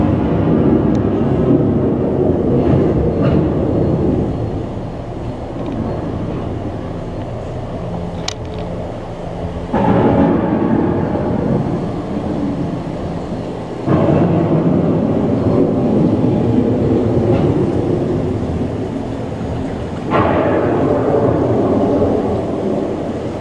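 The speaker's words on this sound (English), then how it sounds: "The approaching storm may seem violent and destructive to us" A rumbling thunderstorm effect on the Epcot Living with the Land boat ride, with heavy low rolling thunder that swells in waves and returns in loud bursts over a steady roar.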